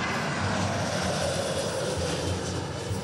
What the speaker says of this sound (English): once this one lands, I'll keep an eye on that aircraft out there